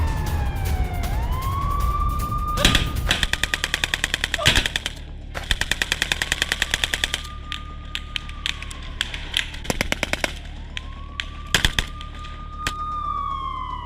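Automatic gunfire from a Hamas fighter shooting at Israeli troops crackles in repeated rapid bursts, with a wailing siren rising and falling behind the shots.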